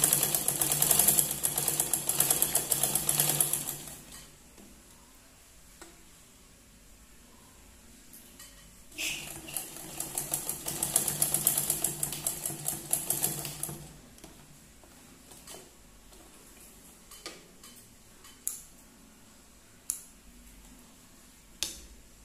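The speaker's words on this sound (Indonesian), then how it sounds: "Kita jahit dari ujung sampai ujung, mengikuti dengan jahitan bantu ini." A sewing machine stitches the lip edge of a welt pocket, loud bursts of rapid mechanical whirring in two runs with a quiet pause between, followed by sparse clicks and taps.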